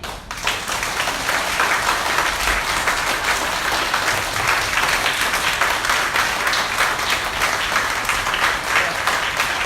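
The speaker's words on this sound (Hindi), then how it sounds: "ऊपर ताली।" A church congregation claps and applauds, a dense, loud, steady wash of many hands lasting about ten seconds without letup.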